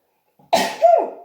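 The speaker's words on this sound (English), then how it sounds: "I'm going to sneeze." A single sharp sneeze from a person with hay fever, with a soft intake of breath just before, then a loud burst that trails into a short voiced tail, close and alone.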